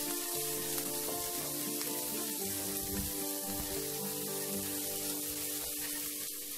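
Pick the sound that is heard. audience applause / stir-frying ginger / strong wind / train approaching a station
stir-frying ginger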